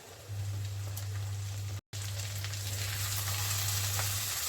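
Mourola fish frying in hot oil for a spicy Bengali chorchori, a steady close sizzle with a low hum running under it, briefly cutting out partway through before carrying on unchanged.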